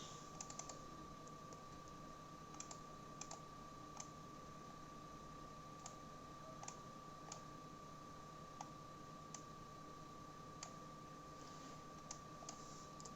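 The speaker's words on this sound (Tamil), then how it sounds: "இப்போ நான் கீபோர்டில் டைப் பண்ணுறேன்" Steady typing on a computer keyboard during a Tamil typing session: close, crisp key clicks in an uneven run, with a few louder taps standing out over a faint constant hum.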